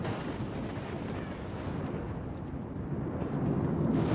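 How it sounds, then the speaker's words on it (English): A psychic and radiation emission blast rolls through the Zone in the video game STALKER: Call of Pripyat, a faint, low, sustained rumbling roar that swells slightly toward the end, with no speech over it. "causing this psychic and radiation explosion that will kill everything that's not in cover."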